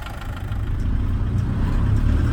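A 1991 Land Rover Defender 110 with the 200tdi diesel engine idles steadily, a close, continuous low rumble that holds even throughout with no talking over it.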